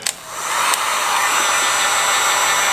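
A heat gun blows a steady, loud airy whoosh while shrink wrap is heated onto a Tactacam cell camera, starting after a couple of brief clicks and holding constant throughout.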